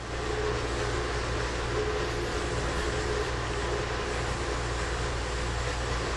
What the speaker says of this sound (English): We're passing this container train.